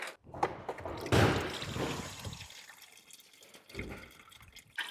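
Engine coolant drains from the tank of a Tesla being torn down for a VW EV camper van conversion, giving close gurgling, splashing liquid bursts that rise, taper off, then surge briefly again.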